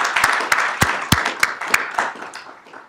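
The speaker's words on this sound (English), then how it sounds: "can I get a last round of applause for our 25 year of service club?" Scattered applause at a city council meeting for 25-year service club members, a small group clapping in uneven separate claps that thin out and fade toward the end.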